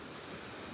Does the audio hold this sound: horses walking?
no